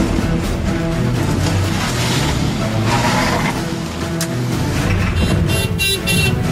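A car drives along with a loud, steady road and engine rumble filling the whole stretch, and a short horn toot sounds near the end.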